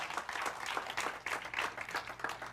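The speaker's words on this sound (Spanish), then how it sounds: "Denle un aplauso fuerte al Señor entonces" A church congregation applauds steadily and fairly close, a dense wash of many hands clapping without pause for a few seconds.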